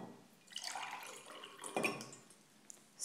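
Blackcurrant juice poured into a glass for a mixed drink with Sprite, a short, soft splashing trickle that swells and fades, close and quiet with brief pauses.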